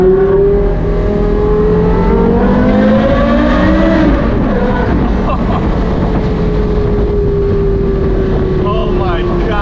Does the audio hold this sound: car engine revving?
yes